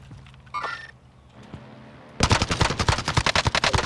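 Automatic gunfire in a shooter video game, a fast loud burst of repeated shots that starts abruptly after a quieter stretch with a few faint effects, close and dominant with no voices over it.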